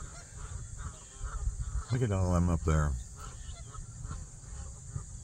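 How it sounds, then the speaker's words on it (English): A large flock of geese, at least a hundred, honks overhead in a steady outdoor chorus, with one louder burst of nearby honking in the middle, as a person speaks briefly. "These geese are still here."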